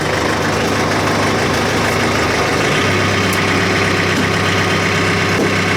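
A vehicle engine idles in low gear while backing into a shed, with a loud, close, steady rumble and vibration throughout and no other sounds breaking through.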